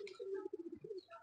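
A pigeon inside a pigeon house gives a soft, brief throaty coo, close by and quiet, heard alone.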